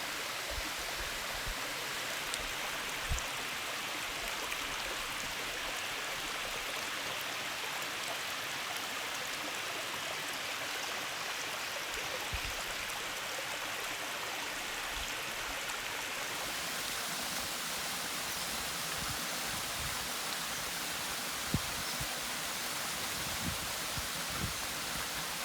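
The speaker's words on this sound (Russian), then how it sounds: "Медленно водичка так течет у него." Steady broadband rush of a stream flowing at the Polkovnichi waterfalls, a continuous even wash of water with no voices, holding level throughout.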